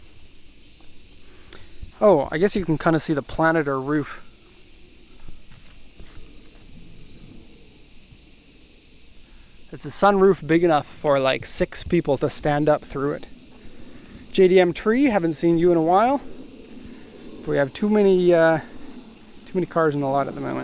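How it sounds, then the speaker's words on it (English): Cicadas in Japan keep up a constant high buzz across the whole clip, heard under someone talking in bursts about a 1992 Nissan Caravan turbo diesel 4x4. "You can probably hear the cicadas in the background."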